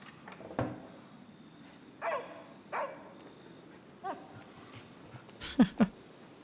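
A dog in the video game Somerville barks several times at irregular intervals, moderately loud and close, with a couple of quick higher yips at the end.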